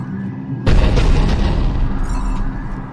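A spaceship cannon fires in the Mass Effect video game: one sudden, loud, deep boom after a quiet moment, followed by a heavy, sustained rumble that stays close and powerful to the end.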